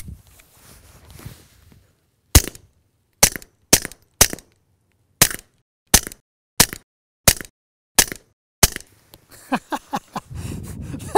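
Roughly ten sharp, close cracks ring out from a suppressed Walther P22 pistol with a Q Erector suppressor, fired in a fairly steady rhythm, followed by quicker clicks and a low rumble at the end.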